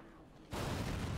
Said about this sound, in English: Whoa, explosion.